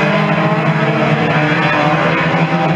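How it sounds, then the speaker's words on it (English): A hot saloon race car engine roars loudly and close by, a harsh high-revving exhaust note that holds steady throughout. "Rip from the exhaust of the 84 machine."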